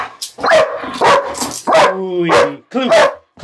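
A dog barks in short sharp bursts and whines close by, with people talking and calling over and between the barks.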